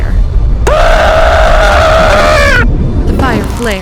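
A man screams in agony while engulfed in blue fire, one long loud sustained cry that drops off, followed by a brief strained groan.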